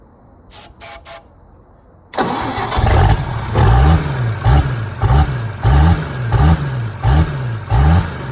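A few short clicks, then the engine of a 1954 International R110 truck with a Silver Diamond engine cranks and catches, running loud and close with a rough, rhythmic chugging beat.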